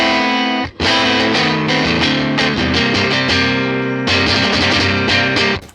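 Overdriven electric guitar through a modeled '59 Fender Bassman LTD amp, strummed chords ringing loud and full with a short pause near the start, then continued playing.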